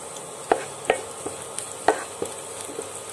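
Ginger, garlic and green chillies frying in a pan for moong dal khichdi give a soft, steady sizzle, broken by a handful of sharp clicks as a spoon stirs against the pan.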